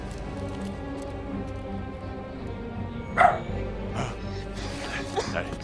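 Cartoon dogs yapping and barking in an Underdog cartoon amid a busy soundtrack of music and speech, with one sharper bark standing out briefly.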